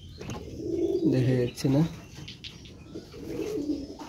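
Pigeons coo in a home coop at a mini zoo, a few soft rolling calls near the microphone, with someone talking briefly over them and some rustling.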